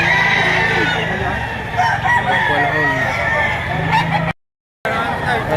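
Roosters crow repeatedly at a chicken auction market in Lipa, Batangas, loud and close, overlapping with clucking fowl and a murmur of crowd voices, with a brief dropout near the end.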